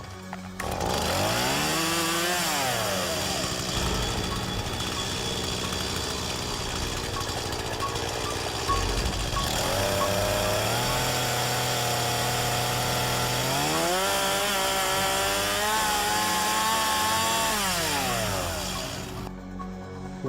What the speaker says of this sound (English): The sound of the chainsaw revving to life in the hallway outside